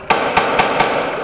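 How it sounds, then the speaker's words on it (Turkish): Gunfire during an armed attack on riot police outside a building in Bayrampaşa: four sharp, loud shots in quick succession, each a hard crack with a short ringing tail, no voices. "silah sesini duyuyorsunuz."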